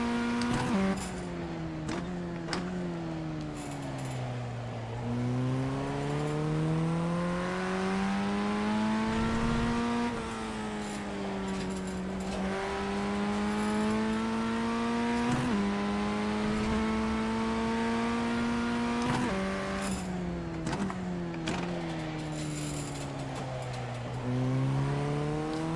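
A BMW M2 lapping the Lédenon race track, its engine loud and close as it revs up and down through the gears with steady pitch sweeps and quick shift breaks, heard alone without talk.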